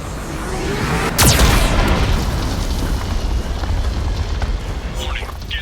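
Geth cannon blasts and explosions in the video game Mass Effect 2, a sudden loud boom followed by a long, rumbling, roaring wash of blast noise and debris that stays dense throughout.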